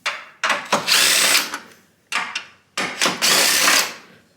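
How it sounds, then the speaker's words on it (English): Power tool spins off the upper mounting bolts of a coilover on a Subaru BRZ, several loud whirring bursts, two long runs separated by a short pause, close by with no talking. "I will take the upper mounting bolts off and she will be out."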